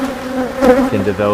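Honeybees buzz loudly and continuously right up close around a hive at a beekeeping yard, a dense droning hum with shifting pitch as insects swirl near the microphone, with a couple of brief spoken words underneath.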